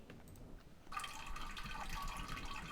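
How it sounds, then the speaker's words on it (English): Water being collected in the survival video game No One Survived: a soft, steady gush of running liquid starts abruptly and keeps flowing at low volume. "Alright, let's grab some water."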